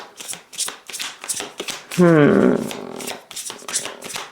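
Tarot cards being shuffled by hand in quick, rhythmic riffling bursts, close and crisp, broken midway by a short voiced sound.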